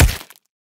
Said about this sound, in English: your impact sounds for heavy attacks or concussive damage,